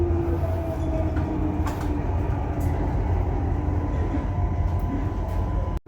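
Interior rumble of a passenger train travelling from Adelaide to Perth, a steady low drone with faint rhythmic wheel clatter and occasional knocks, continuous throughout before cutting off abruptly.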